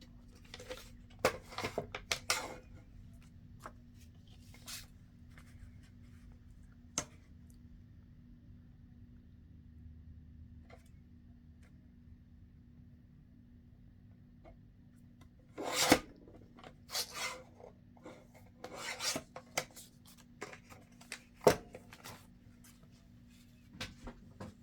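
Scissors snip through a paper tag in scattered, close crisp cuts and rustles, with quiet pauses between bursts and a faint low hum beneath.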